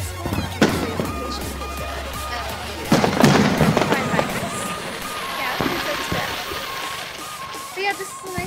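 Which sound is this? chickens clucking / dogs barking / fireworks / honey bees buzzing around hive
fireworks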